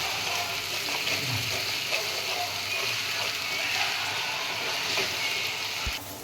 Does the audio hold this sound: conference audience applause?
no